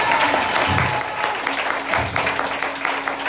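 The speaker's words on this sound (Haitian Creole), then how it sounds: "On a applaudi pour ça, bon Dieu bénit" A church congregation applauds, a steady patter of clapping hands from a crowd that swells twice, with some faint voices underneath.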